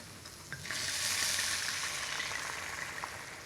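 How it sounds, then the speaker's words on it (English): Wine poured into a Szechuan stir fry in a shallow pan, bursting into a loud, rising hiss that holds steady as a close, continuous sizzle. "Now I'm going to add 100 ml of wine."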